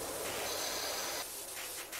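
A pressure washer sprays a chain in PowerWash Simulator with a faint, steady high hiss of water jetting, broken by a few short dips and surges toward the end.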